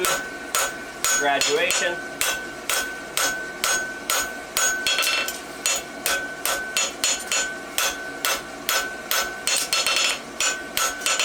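A hammer strikes hot horseshoe bar stock on an anvil during forge welding of a barshoe, loud close metallic blows in a steady repeated rhythm across the whole stretch, with a brief spoken phrase.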